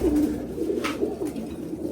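Soft, low pigeon coos sound close by against a faint background hiss.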